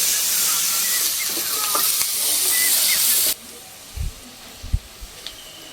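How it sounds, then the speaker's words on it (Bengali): Chopped onions sizzle loudly in oil for a fish curry, a dense hiss that cuts off abruptly. A few soft scrapes and taps of stirring follow in near quiet. "পেঁয়াজটা তেলের উপর নেড়ে চেড়ে একটু ভেজে নেব।"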